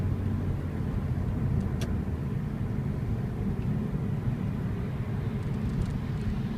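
A Lexus CT200h hybrid accelerates through rainy rush-hour traffic, heard from inside as a steady, even low road and engine rumble with constant tyre hiss. No voices are heard.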